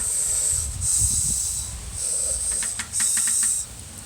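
Breath hissing steadily through the mouth with the tongue resting lightly at the roof, in two long bursts with a short gap, close and fairly loud, with a few faint clicks near the end.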